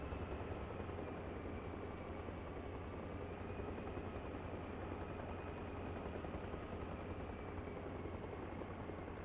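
Helicopter engine in a video game, a loud, steady whirring drone with a constant rotor buzz that holds evenly throughout with no speech.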